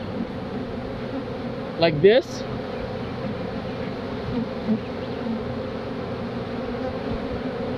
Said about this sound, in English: I'm gonna smoke these bees down